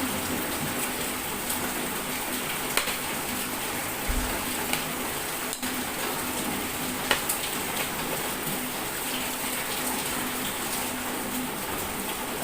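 Heavy rain pours in a steady, dense hiss outdoors on a street, with scattered drops and splashes and a few faint knocks, continuing unbroken for the whole stretch.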